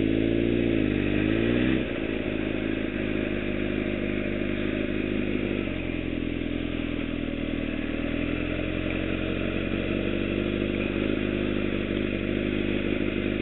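A motorcycle engine drones steadily and close up while the throttle rolls on and eases off, with pitch swells in the rumble and wind noise over the top.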